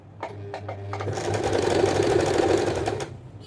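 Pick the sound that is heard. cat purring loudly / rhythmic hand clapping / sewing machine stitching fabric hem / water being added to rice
sewing machine stitching fabric hem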